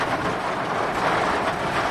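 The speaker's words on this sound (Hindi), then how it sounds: "खिड़की से बारिश अंदर आ रही है।" Heavy rain pours around a car during a trip, a dense, steady, loud rushing wash that fills the sound without a break.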